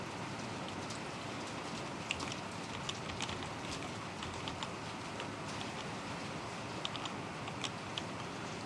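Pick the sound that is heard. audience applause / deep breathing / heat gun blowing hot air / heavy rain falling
heavy rain falling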